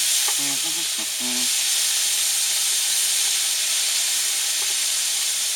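Scallops sizzle steadily in a pan during cab cooking in a truck, a loud, continuous frying hiss with a few brief clatters near the start.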